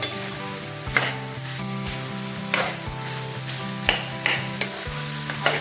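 Chicken and cut potatoes fry in a hot pan with a constant crackling sizzle, and a utensil stirs them with regular scraping strokes about once a second, all close and loud.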